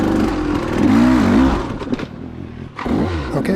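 Motorcycle engine labouring up over a step in gear, revs rising and falling before cutting out abruptly, then a brief restart-like burst; close and fairly loud with no talking.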